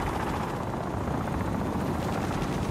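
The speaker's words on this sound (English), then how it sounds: "Friendly Osprey gunner inbound." Osprey aircraft flying overhead in a combat video game, a loud, continuous rotor-like roar with a pulsing chop, close and steady throughout.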